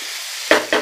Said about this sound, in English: we'll add these fried cashews and curry leaves and chilies and give this a once last mix